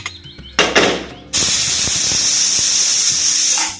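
A pressure cooker lid holding beef is put on the stove: a few metallic clunks and clicks, then a loud, steady hiss that runs nearly to the end.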